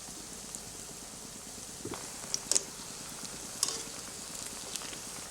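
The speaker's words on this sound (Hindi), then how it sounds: "अब ऑयल गर्म है और दरमियानी आंच पर पोटैटो बॉल्स को फ्राई करें।" Potato balls fry in hot oil over a medium flame, a faint, even sizzle that runs steadily, broken by a few small crackles and pops near the middle. No one speaks over it.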